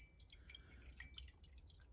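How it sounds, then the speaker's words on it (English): Water poured into a bowl while making holy water, heard as a quiet stream of trickling drips and splashes, soft and close with no talking. "we're going to pour this water"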